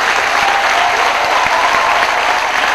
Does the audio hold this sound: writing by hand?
no